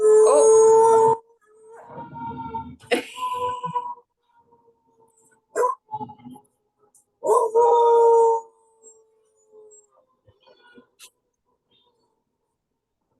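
Rescue dog howling at a passing fire engine, loud sustained wavering howls in several bouts with pauses, close by, with a person talking in between.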